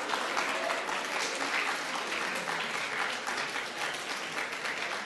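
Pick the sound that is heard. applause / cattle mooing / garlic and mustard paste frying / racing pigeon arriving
applause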